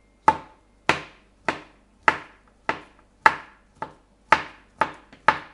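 A banana is chopped on a board for a birthday cake, ten or so sharp, close knife strikes in a steady, slightly uneven rhythm.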